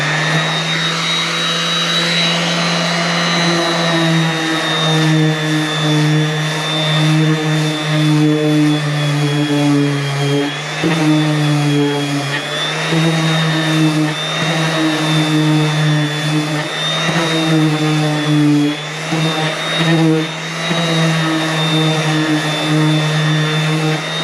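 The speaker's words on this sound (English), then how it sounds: "I got my DeWalt Orville sander, and I have it on the lowest speed" DeWalt orbital sander running on its lowest speed, a steady close electric whine with a strong low hum and bright overtones, continuous and unbroken throughout with no voices.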